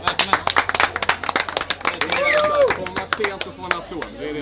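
A few people clap in bursts at a dinner gathering where caviar and Snake River Wagyu are served, the claps sharp and close with talk and exclamations around them.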